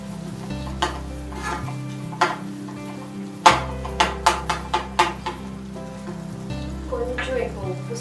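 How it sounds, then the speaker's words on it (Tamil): Sago upma ingredients frying and being stirred in a pan, with a steady sizzle under repeated scraping and tapping strokes of a spoon against the metal, several sharp clanks clustered in the middle. "கொஞ்சம் இதெல்லாம் நல்லா ஃப்ரை பண்ணிட்டு"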